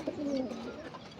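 Birmingham roller pigeons coo in a loft, a soft low warbling call close by that swells briefly and fades over a constant bed of faint background hiss, with no voices.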